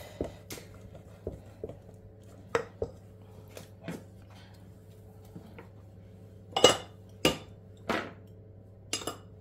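Spoon or whisk knocking and scraping in a bowl while mixing gluten-free citrus chocolate cake batter, with irregular clinks and taps spread through, some sharp and close, over a low steady hum.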